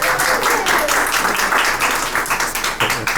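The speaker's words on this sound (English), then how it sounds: "let's have a round of applause for our out-of-town speaker away from Virginia" Audience applause at a storytelling evening, a dense, steady wash of clapping from a seated crowd that holds at full strength for the whole stretch with no pause.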